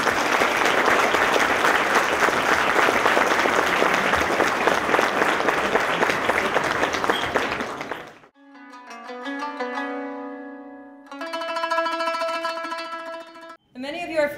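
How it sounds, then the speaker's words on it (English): An audience at the Rumi Forum's 10th anniversary gathering applauds its volunteers, a dense, sustained wash of clapping that lasts about eight seconds and then stops abruptly as a short musical phrase follows. "So please applaud them"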